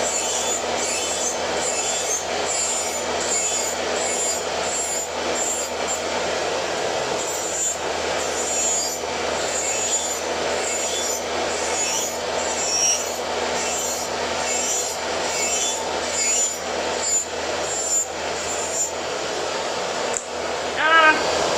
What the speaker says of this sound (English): I'm not used to filing a lone plastic tip with an e-file